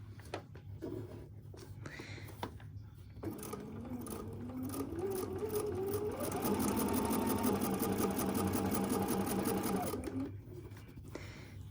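A Bernina sewing machine with an Organ 75/11 needle runs in short stitching bursts, then settles into a long, steady, fast mechanical whir that rises in pitch before it stops.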